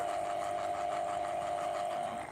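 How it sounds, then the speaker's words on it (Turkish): An electric lemon squeezing machine runs with a steady, even motor hum and a faint rattling vibration. It is close and constant, with no voices. "böyle bir makinem var. Bu makinede bu şekilde sıkıyorum."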